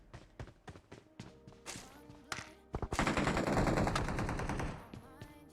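Automatic weapon fire in PUBG starts as separate sharp shots, then becomes a dense sustained burst at close range that fades at the end.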